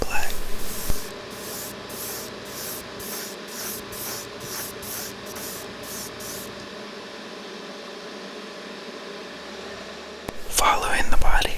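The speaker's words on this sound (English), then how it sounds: "the roof also needed to be painted satin black" Spray paint hisses in about a dozen short rhythmic bursts as satin black is laid onto the roof of a Tamiya Toyota Mk V Supra scale model, followed by a steady quiet hiss and a louder rustle near the end.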